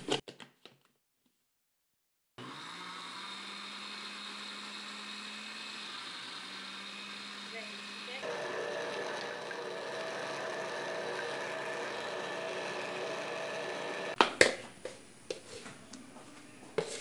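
A kitchen blender whirs steadily, mixing bread batter with wheat flour, its motor changing pitch partway through as the load shifts, then a few clunks and knocks near the end. No talk.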